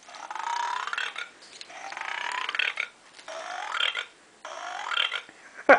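A squeezed toy frog gives four rasping, croaky bursts, each about a second long with short gaps between, close and fairly loud, with no talking over them.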